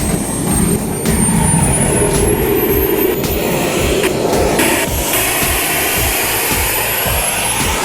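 A radio-controlled model jet aircraft at the Thailand Jet Meeting 2022 revs its turbine engine, a loud, sustained roar with a rising high-pitched whine throughout.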